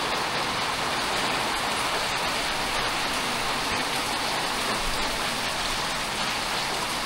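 Heavy overnight rain pouring steadily, a dense continuous hiss of drops hitting surfaces, loud and unbroken with no voices.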